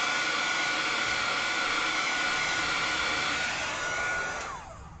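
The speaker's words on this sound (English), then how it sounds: "I push my dryer on the back, where the paper is." A hair dryer blows steadily and loudly on the back of a sheet of paper to flatten it, a constant airy roar that winds down in the last second as it switches off.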